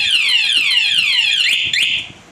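A Yamaha R3 motorcycle's anti-theft alarm blares loudly nearby, cycling through rapid descending sweeping tones that repeat continuously, with no voices.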